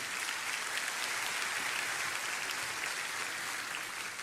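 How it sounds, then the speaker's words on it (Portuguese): A church congregation applauds during a sermon, producing dense, even clapping from many people that holds steady throughout with no one speaking. "Você pode aplaudir ao Senhor"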